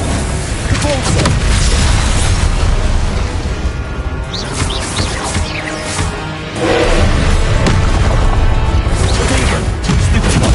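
Repulsor spell blasts in Hogwarts Legacy form dense, loud combat noise, with crashing bursts over a constant layer of game sound and no gaps.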